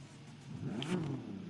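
A car engine in the racing game The Crew 2 revs up at mid distance, a steady throaty rumble that swells and peaks briefly before easing off, with no talk over it.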